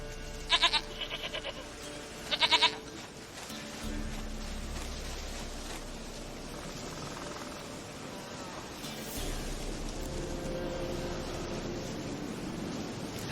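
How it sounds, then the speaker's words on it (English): A goat in The Witcher 3 gives two quick bleats near the start, then low rumbling ambience and wind-like noise fill the rest of the scene. "Goat of mine, dearest, sweetest goat."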